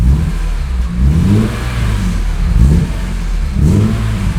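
A BMW E46 M3 engine is revved repeatedly, loud and close, with rising and falling pitch across several blips and no voices.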